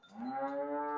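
A crossbred dairy cow, second-calver with a heifer calf, gives one long, drawn-out moo that rises and holds steady, close and fairly loud, with no talking.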